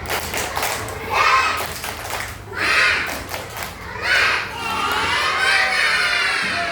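A class of schoolchildren doing a spirit clap chant with their teacher, shouting together in loud rhythmic bursts, with claps and thumps mixed into the excited voices.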